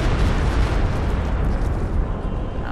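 A Stuka artillery barrage in a strategy video game: a continuous, dense rumble of blended explosions, loud and heavy throughout with no separate distinct blasts.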